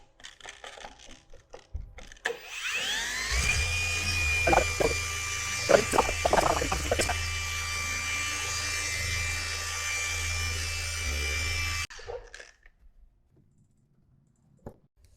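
A car paint polisher runs during paint correction, spinning up into a steady mid-pitched whir that holds for about ten seconds with a few clicks and knocks, then winds down and stops.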